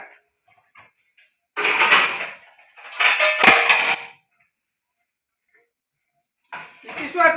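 Household pots and metal utensils clatter and crash in two loud bursts, then a third toward the end, thrown down in anger in a home, with quiet gaps between.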